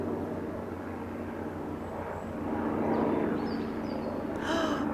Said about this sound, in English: I have two aircraft in the sky because I'm filming